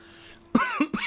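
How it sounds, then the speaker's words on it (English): A few sharp, close coughs in quick succession, three bursts with short pauses between them, following a quiet stretch. "Now, remember that cough."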